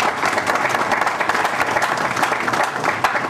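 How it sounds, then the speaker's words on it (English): Steady applause from an audience, a dense patter of clapping hands that stays loud and even throughout. "So let's give them a round of applause as well."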